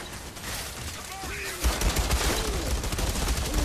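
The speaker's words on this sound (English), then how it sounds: "Stop shooting that stuff at me." Enemy gunfire rattles in Outriders, starting as a softer stream of shots and swelling into a dense, loud fusillade of rapid automatic bursts with low thuds beneath.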